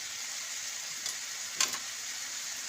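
Tikka frying in oil, a steady faint hiss of sizzling with a couple of brief louder crackles, no voices.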